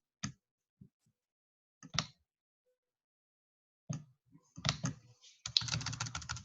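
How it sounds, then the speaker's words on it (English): Computer keyboard typing in scattered clusters of crisp close key taps separated by silent gaps, then becoming a steadier rapid run of keystrokes at the end. "just type in, you know, whatever text you want."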